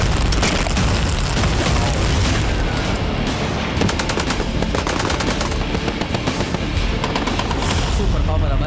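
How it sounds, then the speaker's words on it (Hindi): Missile strikes and battle fire along a border line of control: a continuous, dense barrage of rapid bursts and heavy booms, loud throughout, with a voice faintly mixed in. "रेंज मिसाइलों के धमाके से पूरा बॉर्डर दहलने लगा।"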